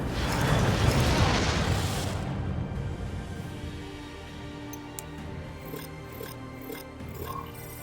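Explosions go off in the video game ExoPrimal: a loud rumbling blast fades into a lingering roar, followed by scattered debris clatter and small crackling pops, with no talking over it.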